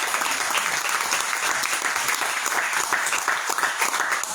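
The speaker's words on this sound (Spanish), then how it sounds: "¿Y cuánto le da un aplauso, Señor?" Steady applause from a church congregation, a dense, continuous wash of many hands clapping at even loudness throughout, with no speech over it.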